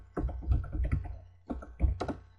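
Computer keyboard keys tapped while typing code in an editor: clusters of quick, crisp clicks in short bursts with a brief pause between, close and moderately quiet, no talking.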